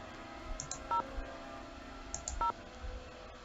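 In a Nancy Drew video game, a telephone is dialed: a string of short beeps, clicks and two clear tone pairs, each followed by a louder keypress tone, evenly spaced over a few seconds.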